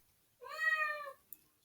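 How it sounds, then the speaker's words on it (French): A domestic cat gives a single clear, drawn-out meow close by, followed by a brief soft click in an otherwise quiet room. "c'était mon chat"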